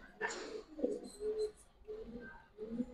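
Giribaz high flyer pigeons give soft, quiet coos in short repeated bursts, faint and intimate, with a voice faintly present.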